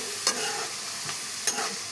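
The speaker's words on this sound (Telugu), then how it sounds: "మొత్తం వేసుకొని బాగా కలుపుకొని వేగాలి." Amaranth leaves with mustard seeds are fried in a pan with a constant sizzle, and a spoon stirs them in two or three quick scraping strokes.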